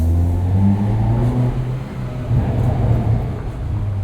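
A 2021 Hyundai Veloster N with a dual-clutch transmission pulls hard on a night drive, its engine heard from inside as a loud, steady drone that holds and climbs with no talking.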